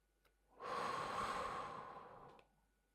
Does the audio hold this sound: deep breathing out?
yes